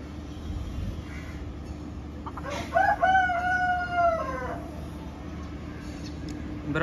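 A Colombian Light Brahma rooster, raised indoors, lets out a single drawn-out crow up close, rising then holding and trailing off over a steady low background hum.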